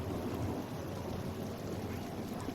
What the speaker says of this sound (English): Andreas, stay out of the rain.